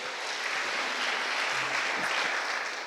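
Church congregation applauding during a sermon, a dense, even wash of clapping that runs steadily throughout, moderately loud with no clear speech on top.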